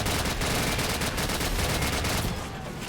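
Sustained machine gun fire rattles loudly and continuously in Call of Duty 4: Modern Warfare, rapid dense bursts filling the whole stretch with barely a pause.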